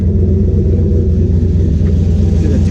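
Turbocharged Chevrolet C10 pickup engine settling toward idle, a steady loud low rumble that holds unbroken throughout with no talking.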